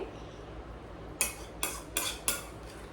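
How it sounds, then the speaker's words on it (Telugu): A spoon scrapes and clinks in a pan while pulihora tamarind rice is mixed, four distinct metallic taps in quick succession after a quiet start, close and fairly soft. "ఇది కూడా వేసేసి మనం చక్కగా పులిహోర కలుపుకుందాం"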